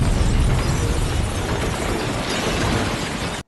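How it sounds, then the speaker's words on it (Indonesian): Explosion from the 2002 film XXX. It comes as a loud, sustained roar of crackling debris and rumble that fills the scene for over three seconds, then cuts off abruptly. "terjadi sebuah ledakan di mana para polisi tengah menyerang mereka"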